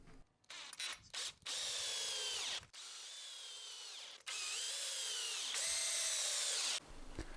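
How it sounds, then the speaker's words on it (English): A power drill boring holes in scrap wood: a few short trigger blips, then three sustained whining runs with brief pauses between them, close and steady with no talking. "this way I know exactly where to drill my holes"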